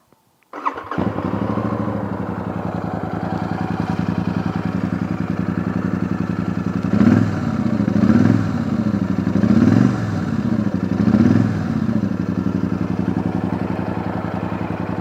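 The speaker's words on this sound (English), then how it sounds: "So shall we fire her up and have a listen?" A Royal Enfield Super Meteor 650 motorcycle fires up after a brief crank, then settles into a steady, loud, close idle with a rhythmic thump, swelling with a few short throttle blips partway through.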